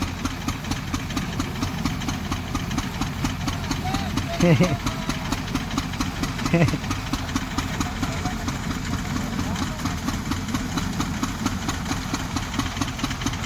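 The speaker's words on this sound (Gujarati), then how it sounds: "અહીંયા હલર ચાલુ છે ભાઈ જોઈ લે" A thresher powered by a tractor engine runs steadily with a loud, continuous droning rumble and rhythmic mechanical knocking, with faint voices underneath.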